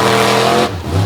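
Monster truck with a 557 cubic inch Oldsmobile engine on a Metal Shop chassis revving loud and close over wet crushed cars at a beach show, its roar dipping briefly before surging again.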